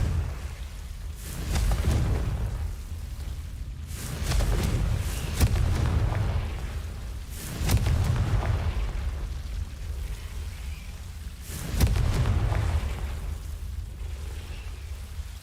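Confringo blasting-curse explosions in Hogwarts Legacy, several deep rumbling booms spaced a few seconds apart, each swelling and fading into a low roar.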